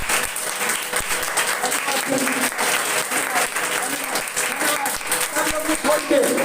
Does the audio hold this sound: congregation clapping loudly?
yes